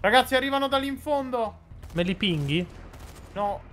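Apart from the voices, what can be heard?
None of the usual background noises is heard.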